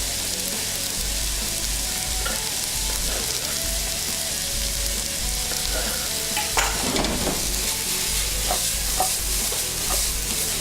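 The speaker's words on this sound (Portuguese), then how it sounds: "Cebola ficando transparente, a abobrinha já cozinhando" Diced onion and zucchini cooking in a pan: a steady, dense sizzle that hisses on without a break, with occasional stirring scrapes and light taps close by.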